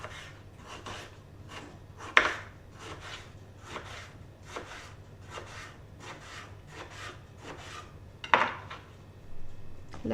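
A knife slices through eggplant halves on a wooden cutting board, about fifteen regular rasping strokes with a couple of sharper knocks, close and fairly quiet.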